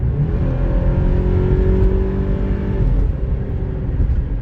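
A 1999 Subaru Legacy Outback accelerates hard, its engine climbing loudly and steadily from inside the car before easing slightly near the end, with no talk over it.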